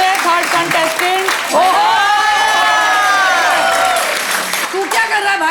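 A talent show audience breaks into loud applause and cheering for a contestant, with whoops and shouts rising over clapping before a voice returns near the end.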